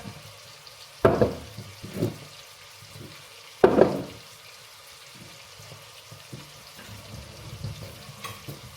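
Herbs and thyme cooking in a pan alongside steak, with two sharp sizzling bursts about two and a half seconds apart over a quiet background of faint frying crackle and clinks.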